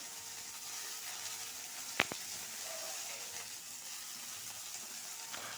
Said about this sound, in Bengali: পেঁয়াজ, রসুন, আদা এগুলো একটু তেল দিয়ে ভেজে নিচ্ছি